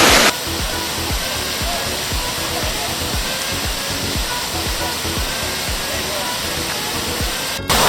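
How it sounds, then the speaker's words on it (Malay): Waterfall on the Kooi river in Royal Belum roars in a continuous, loud, broad rushing wash close by, with an irregular low rumble underneath and no talking. "Kalau korang boleh tengok ni adalah air terjun sungai Kooi."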